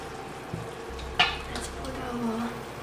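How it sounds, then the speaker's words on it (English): Onions boil and sizzle in a pot, with a utensil scraping and clinking against the pan, close by and steady. "onions are boiling."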